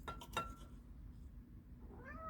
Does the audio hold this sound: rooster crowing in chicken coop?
no